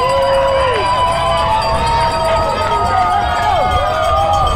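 Dense roar of spectators lining the Boston Marathon course, a steady wash of crowd noise heard from among the runners, with a voice talking over it throughout.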